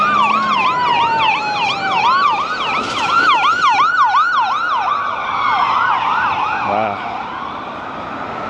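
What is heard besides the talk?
ambulance siren passing on a street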